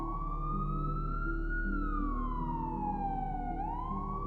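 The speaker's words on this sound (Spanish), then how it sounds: "Las sirenas sonaron a lo lejos" Police sirens wailing in the distance, a continuous rising and falling tone over a low rumble, with no talk.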